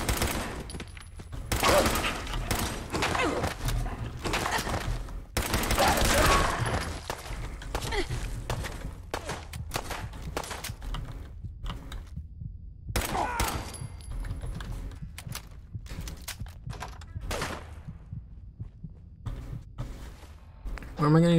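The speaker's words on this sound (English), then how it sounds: "Where am I getting shot at from now?" Gunfire in Fallout 4 comes in bursts of sharp shots and rapid volleys with brief pauses between them, loud and close, while a player's voice talks over parts of it.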